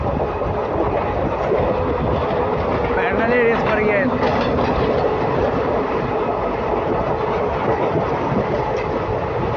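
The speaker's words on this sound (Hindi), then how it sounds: "भाई चर्च गेट की लोकल ट्रेन जा रही है भाई साहब।" A Churchgate-bound Mumbai local train rushes past up close, a loud continuous roar of wheels and rattling carriages with faint metallic squeals partway through, and a voice briefly talking over it.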